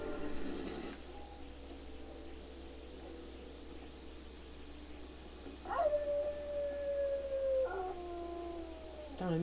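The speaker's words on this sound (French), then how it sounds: "C'est des loups." Wolves howling in the video game Assassin's Creed Brotherhood, long sliding howls rising and falling over a steady background hiss, one howl carrying for several seconds with shorter cries breaking in, fairly near.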